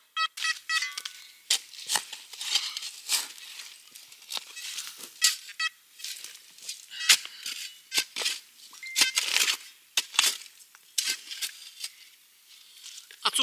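Metal detector out in a field over a buried target gives off a string of short, irregular electronic beeps and chirps, fairly close and moderately loud, with no one talking.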